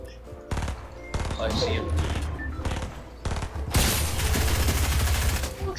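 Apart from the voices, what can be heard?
assault rifle gunfire in Fortnite video game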